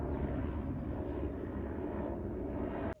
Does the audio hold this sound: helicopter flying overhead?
yes